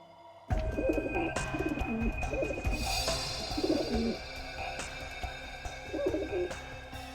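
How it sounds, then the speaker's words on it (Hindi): Several pigeons coo in low, throaty repeated phrases, close by, with a steady background hum and occasional faint bird chirps. "मेरे कबूतर है अंदर में"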